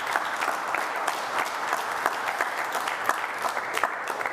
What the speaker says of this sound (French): Et je vous demande, s'il vous plaît, d'applaudir pour lui.